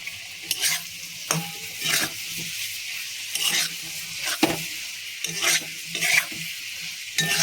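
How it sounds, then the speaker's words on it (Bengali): Spice paste with tomato sautéing in a pan, a steady sizzle broken by repeated stirring scrapes every second or so, close and fairly loud with no talk. "এইবারে আমি মশলাটাকে আস্তে আস্তে করে কষিয়ে নেব"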